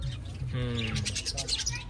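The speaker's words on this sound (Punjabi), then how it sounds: "ਕਿੰਨੇ ਸੋਹਣੇ ਸੋਹਣੇ ਪੰਛੀ ਨੇ ਚਿੜੀਆਂ" Sparrows chirp outdoors with quick, bright, repeated tweets through the whole moment, while people talk faintly underneath.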